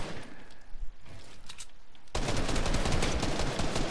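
Rapid bursts of video game gunfire fill the second half, loud and dense after a quieter stretch of scattered shots and game noise.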